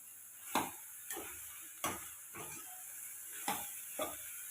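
Finely chopped eggplant cooks in a kadai over a low gas flame, a quiet sizzle broken by about eight soft, evenly spaced taps and stirs.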